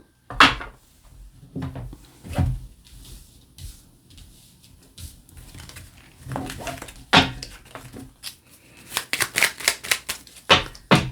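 Tarot cards shuffled by hand, a series of soft riffling flutters and taps in irregular bursts, closer and busier toward the end, with a voice speaking briefly.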